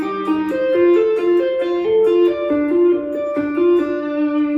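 Electric guitar tapping the opening line of Bach's Toccata and Fugue slowly, a distorted, effects-laden lead with clear separate notes stepping up and down in a measured rhythm, played alone and fairly loud.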